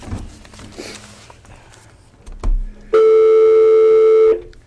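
A telephone call tone sounds on the conference line of a planning commission meeting, a single steady electronic tone lasting about a second and a half, loud and clean, after quiet room noise and a brief thump.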